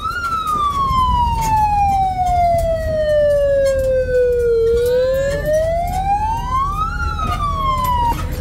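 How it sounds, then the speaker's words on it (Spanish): A siren wails along a main street, sweeping slowly down in pitch and then rising again, loud and steady with traffic rumble beneath and no talking. "¿me escuchan la sirena?"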